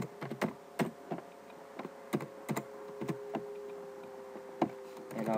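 Keys clack on a computer keyboard during C# coding, a close run of crisp separate taps in short uneven bursts over a faint steady electronic hum.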